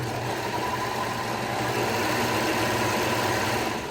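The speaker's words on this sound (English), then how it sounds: "So now we're gonna overlock that center back seam right here." An overlock serger machine stitches a fabric seam nearby, giving a steady, even mechanical whir with a constant low hum throughout and no talk.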